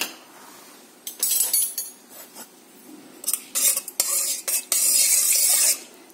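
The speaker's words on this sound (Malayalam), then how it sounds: "അപ്പോൾ ഇങ്ങനെ തന്നെ നമുക്ക് ചതച്ച മഞ്ഞൾ ഇതിലോട്ട് മിക്സ് ചെയ്യാം." A spoon stirs crushed turmeric into milk, clinking and scraping against the vessel in uneven bursts, some sharp and close, with quieter gaps between.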